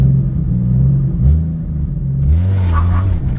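A 1996 Jeep Cherokee engine idles with a deep, close rumble and rises in a short, gentle rev before settling back, with low, steady engine drone throughout.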